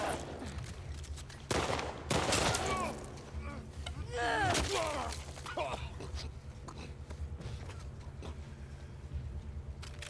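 Gunfire in The Last of Us Part II, bursts of shots amid a tense fight, with shouting voices mixed in and loud cracks clustering early before settling into a steady background rumble.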